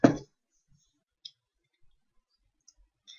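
Computer mouse clicks on a software install button: one sharp click at the start, then a few faint, sparse ticks in near silence.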